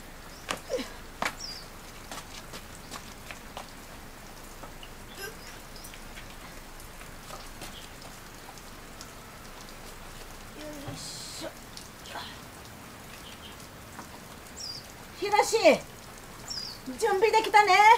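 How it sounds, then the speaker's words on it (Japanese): Light rain patters steadily in the background, with scattered drips and taps and occasional bird calls. Some louder knocks and rustles build near the end. "雨だね。"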